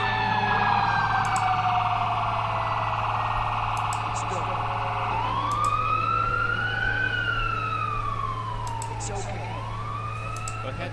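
A fire engine siren from the Emergency 4 game with a West Lampeter mod wails in rising and falling sweeps, loud and continuous over a low steady engine hum, with short electronic chirps up high.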